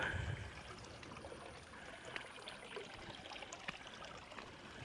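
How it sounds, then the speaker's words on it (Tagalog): Steady, soft rush of the Tres Cruses River in Tanza, Cavite running over rocks, continuous and fairly quiet with faint splashes. "May agos ng tubig oh."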